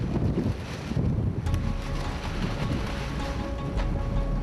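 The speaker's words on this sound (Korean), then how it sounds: "갑자기 거센 바람이 불어오기 시작했다." Strong gusts of wind high on a tower crane during dismantling work, a steady roaring rush that buffets the microphone for the full length with no speech.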